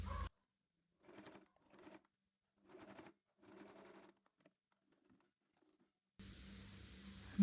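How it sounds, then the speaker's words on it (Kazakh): A sewing machine stitches two quilt fabric squares together in four short bursts, each about half a second long and separated by pauses, followed by faint handling clicks and then a louder steady background hum at the end. No voices are heard. "Енді осы квадрат матамызды мына астындағы квадрат матамен бірдей етіп қойып, бұрыштарын теңдей қойып, үстінен тігіп шығамыз."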